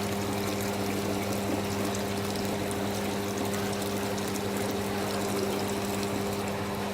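Water drains steadily from the emptied tanks of a yogurt machine being cleaned, a constant rushing flow over a low, steady machine hum, with no talking.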